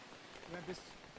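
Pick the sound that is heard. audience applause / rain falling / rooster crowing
rain falling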